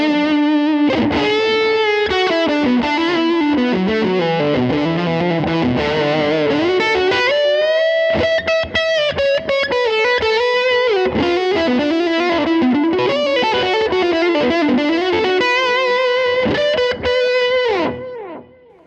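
High-gain distorted electric guitar runs through a Line 6 Helix with the gain cranked, playing loud, compressed riffs and long sustained notes continuously for about eighteen seconds with no talking.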